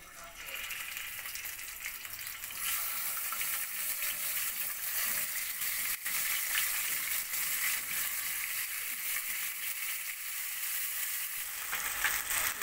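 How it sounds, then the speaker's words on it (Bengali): Bhetki fish frying in hot oil in a pan, giving a steady, close, dense sizzle that holds without a break for about thirteen seconds, with no talking. "আমি এতে মাছগুলো ছাড়ছি"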